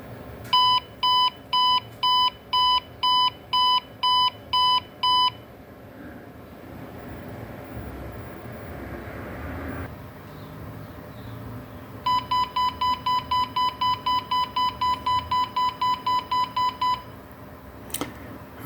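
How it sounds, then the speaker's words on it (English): An Arduino egg timer beeps in rapid pulsed electronic bursts, a run of about nine beeps, a pause with quiet background, then a second longer run of beeps. "We've got another few seconds to go to listen to the buzzer."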